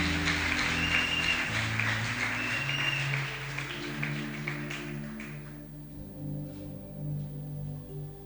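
A church congregation claps and cheers in sustained applause for the Lord Jesus, a dense wash of hands over organ or keyboard chords that thins out near the end.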